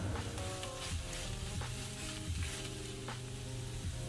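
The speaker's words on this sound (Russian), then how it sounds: "Перемешиваем тщательно, дожариваем все еще вместе пару минут." Filling with a spoonful of tomato paste frying in a pan, a soft steady sizzle with repeated scraping strokes of a utensil stirring, fairly quiet and close.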